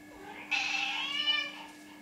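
A domestic cat gives one drawn-out, expressive meow indoors, close and fairly loud, over a steady low electrical hum.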